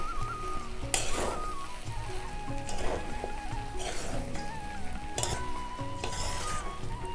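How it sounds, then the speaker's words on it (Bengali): Fried spice powder and a spoon of ghee being stirred into a fish-head puffed rice dish in a pan: continuous soft sizzling with repeated scraping and metallic clinks of the spoon against the pan, close and steady. "এবারে আমি ভাজা মশলা 1 চামচ দিয়ে দেব, আর তার সাথে 1 চামচ ঘি দিয়ে আমি একটু ভালো করে নেড়ে দেব।"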